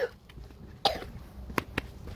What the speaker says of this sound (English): It's a little bit nasty cough.